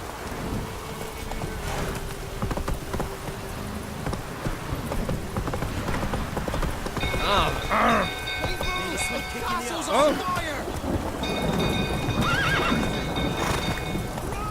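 Horse in The Witcher 3 video game, hooves clip-clopping at a gallop with several neighs and whinnies, rain and rumbling thunder in the background, and a voice briefly urging the horse on.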